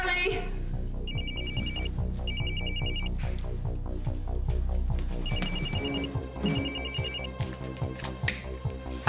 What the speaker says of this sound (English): Did I hear my phone ringing?